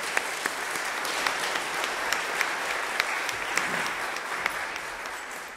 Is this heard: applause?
yes